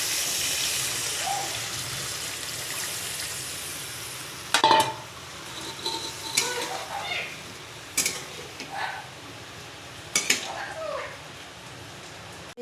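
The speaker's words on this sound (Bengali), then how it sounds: "এই যে আমি জল অ্যাড করলাম।" Water poured into a pan of red fried spices for pabda fish curry hisses and sizzles softly, followed by scattered stirring clinks and bubbling sounds in a quiet kitchen.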